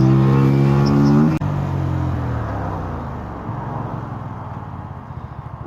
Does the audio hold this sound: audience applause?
no